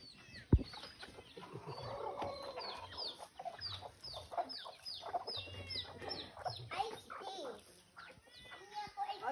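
Chickens clucking close by in a busy flock, repeated short clucks and squawks overlapping in an irregular rhythm, with people talking over them and a sharp knock near the start.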